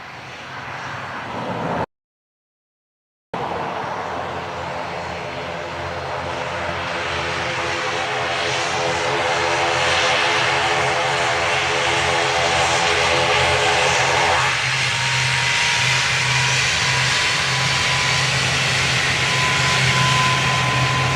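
An airliner takes off from runway 10 right at Dublin Airport, its engines building from a roar to a loud, sustained rumble and whine as it powers down the runway, heard from a distance with no talk.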